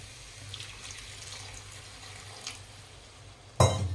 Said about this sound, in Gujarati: આપણે જે ચણા બાફ્યા હતા એનું ગરમ પાણી આપણે રાખેલું છે એ રેડીશું.